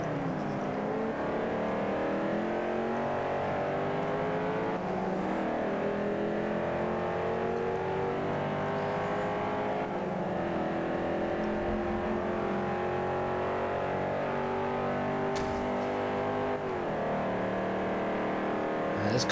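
A C Class race car in Forza Motorsport 5 roars loudly and continuously, its engine note climbing through repeated gear-shift sweeps as it accelerates, with a brief sharp knock near the end.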